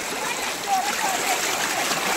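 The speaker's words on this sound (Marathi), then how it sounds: "खूप जोरात वाहतोय पाणी" A river flows strongly in a broad, steady rushing wash that fills the whole clip, and a voice speaks over it.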